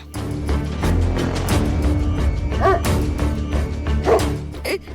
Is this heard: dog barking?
yes